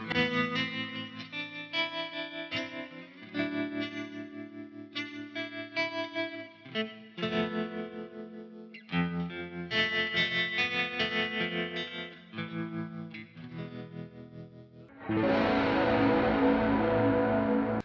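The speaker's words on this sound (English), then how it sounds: "Octave fuzz distortion stuff." Electric guitar chords and notes with a buzzy octave fuzz distortion, played in bursts with pauses, ending in a thick, saturated sustained roar.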